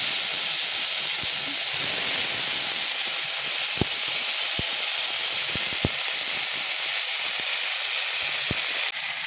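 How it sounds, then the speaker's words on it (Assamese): Chopped Modhusuleng leaves dropped into hot oil with panch phoron give a loud, steady sizzle and hiss, with scattered faint pops and ticks from the spices throughout. "এতিয়া ইয়াতে দি দিম মই কাটি থোৱা মধুসোলেং পাতখিনি।"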